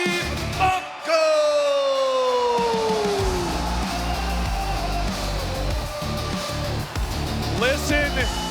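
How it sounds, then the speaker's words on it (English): A large arena crowd at a wrestling event roars and whoops loudly and steadily for a wrestler's entrance, with a voice bellowing over the din near the start. "Listen to this crowd lose their mind for Steve Mocco"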